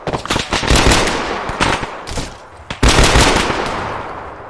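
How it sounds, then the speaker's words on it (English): Automatic and single gunfire in the Arma 3 video game, with rapid bursts of loud shots followed by a pause and then another heavy volley. "Syntex is shooting at someone"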